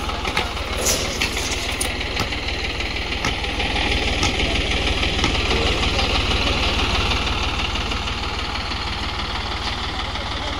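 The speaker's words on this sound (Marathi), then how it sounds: "म्हटलं ट्रॅक्टर रिवर्स घे" A tractor engine runs steadily at a low, idling throb while reversing with a trolley on a farm, a continuous close rumble with faint knocking and no voices.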